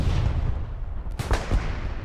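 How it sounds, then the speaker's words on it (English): Artillery shells landing in the World War II shooter Hell Let Loose, a couple of sharp booming impacts over a dense rumbling battlefield backdrop, brief and moderately loud. "Is that artillery that's taking us one shot?"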